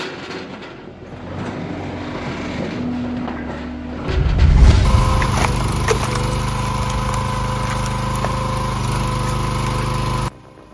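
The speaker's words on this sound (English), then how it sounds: "The hydraulic log splitter with a 4-way splitting wedge is the ultimate solution for high-performance wood processing." Engine-driven hydraulic log splitter with a four-way splitting wedge runs at a steady drone that grows louder and harsher midway as wood is forced through, then stops abruptly near the end.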